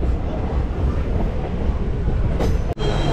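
A passenger train carriage rolls along the line from Jalandhar toward Sultanpur Lodhi, a steady loud rumble with a brief sharp clatter near the end.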